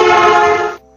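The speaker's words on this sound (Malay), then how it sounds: "it honks a horn because you're standing in the middle of the road" A car horn blares loud and steady as a fast car speeds past, then its pitch drops abruptly just before it cuts off.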